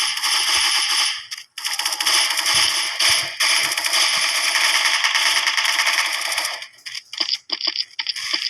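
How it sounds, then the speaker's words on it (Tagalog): Rapid automatic MP5 submachine gun fire in a video game, in long sustained bursts with brief pauses, loud and close, ending in a few scattered shots. "Ang ganda ng putok niya, MP5, solid."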